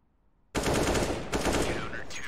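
Sustained automatic rifle fire in the game CS:GO rattles loudly after a quiet start, a dense continuous burst with faint chatter in the background.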